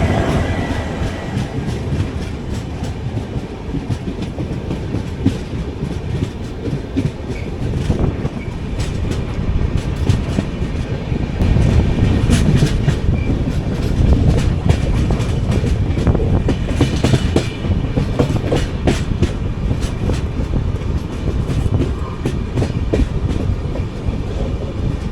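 Mumbai CSMT–Trivandrum Weekly Express train pulling into a station on platform 4, a loud continuous rumble of rolling wagons with rhythmic wheel clatter and faint squeals, swelling in the middle and steady to the end, no voices.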